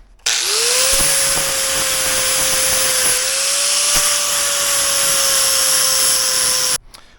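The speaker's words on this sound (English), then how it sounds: "we can use the flap disc and get it cleaned up." A flap disc on an angle grinder spins up and grinds the edges of a clamped steel shelf bracket, a loud, sustained high whine for about six seconds with a slight pitch shift midway before cutting off, no voices.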